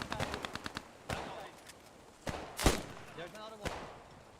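MP40 submachine gun fire in the World War II game Post Scriptum, with a rapid burst of about eight shots followed by scattered louder single shots and a distant battle, fairly quiet and under intermittent speech.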